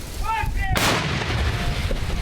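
A heavy artillery gun fires once from a Ukrainian position near the Avdiivka front, using American Paladin or Soviet self-propelled guns, a loud sharp boom that rolls into a long rumble, over steady outdoor noise with faint tones before the blast.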